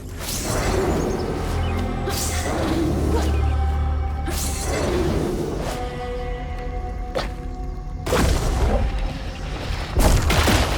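Exploding mushrooms in the video game South of Midnight give a series of loud, booming blasts with shattering crashes and whooshes over a heavy low rumble, repeating every couple of seconds.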